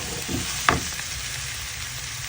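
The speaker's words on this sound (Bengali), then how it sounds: "করলাটা কিছুক্ষণ ভাজার পরে আলুটা দিচ্ছি" Sliced bitter gourd (karela) and potato fry in oil in a pan, a steady close sizzle with a brief clatter of stirring early on.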